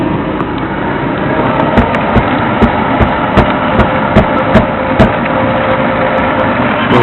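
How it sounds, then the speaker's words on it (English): A 2002 Jeep Grand Cherokee engine idles steadily after a cold start, a loud, close, even rumble with regular faint ticking pulses and no voices. "Took some time to crank over, but it started just fine. Runs good now."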